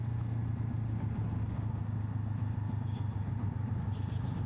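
A Honda NX500 motorcycle coasting downhill in second gear with the throttle off, giving a low, steady engine rumble under constant wind and road noise.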